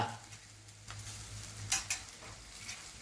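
Vegetables being stirred in a cooking pot for gummadikaya dappalam (pumpkin stew with brinjal, tomato, jaggery and herbs), a faint close scraping and stirring with a few sharper knocks against the pot over a low background hum.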